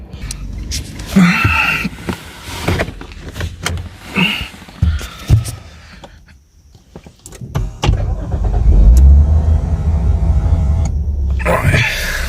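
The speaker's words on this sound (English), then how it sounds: "Let me just pop the car on." A Lexus IS250 engine turns over and starts, then settles into a steady low idle, with a few clicks and mechanical knocks before it catches.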